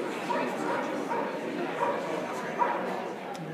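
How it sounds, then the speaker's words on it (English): A small Shetland Sheepdog gives several short, fairly faint barks and yips at a show, spaced out over a steady background of crowd murmur and people talking nearby. "She's just a Sheltie."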